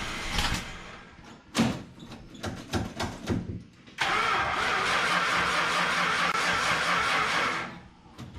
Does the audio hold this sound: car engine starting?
yes